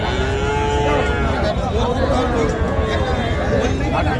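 At a busy cattle market, a three-month-old crossbred bull calf moos repeatedly over a constant hubbub of crowd chatter and nearby voices.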